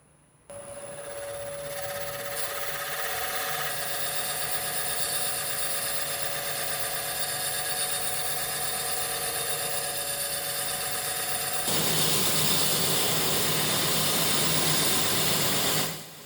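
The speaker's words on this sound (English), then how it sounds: "I'm gonna use this in combination with a much bigger boring bar to try to cut a perfect cylinder" A large boring bar cuts a cylinder on a cross-slide table: a steady, loud mechanical whir with a constant high tone that runs unbroken, growing brighter and harsher toward the end before it stops.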